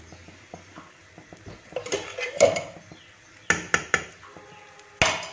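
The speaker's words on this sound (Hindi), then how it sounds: "ऊपर नीचे करके चलाते जाएं" Chana dal halwa cooked with ghee in a pan, stirred and turned with a spatula: irregular scraping knocks, then several sharp clacks of the spatula against the pan, close and fairly loud.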